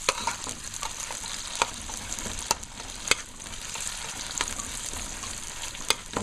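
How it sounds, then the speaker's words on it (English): Tomato paste fries in a pot with a constant fine sizzle, punctuated by occasional sharp spoon taps against the rim; no one speaks. "we gotta fry up the tomato paste"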